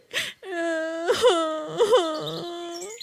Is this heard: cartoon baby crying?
yes